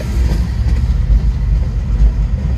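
A long southbound CSX mixed manifest freight train rolls past close by, a loud, steady low rumble of railcars with faint rhythmic wheel clatter and no speech.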